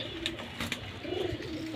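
Pigeons coo softly in a loft of high-flying fancy breeds, low murmuring calls over a steady hiss of background noise.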